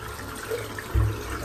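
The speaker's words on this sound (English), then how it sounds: "Let's rinse the brush out now." A shaving brush rinsed under a running tap, a steady close hiss of water with a brief fuller splash near the end.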